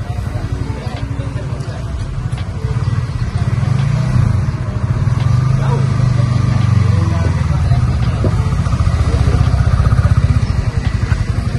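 A new motorcycle's engine idling and running close by, a steady low rumbling throb that rises slightly in intensity midway, with people talking over it.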